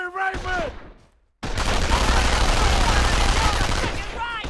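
Machine gun fire in Company of Heroes, a dense continuous burst of rapid shots after a short gap, loud and close, with a shouted voice just before the firing.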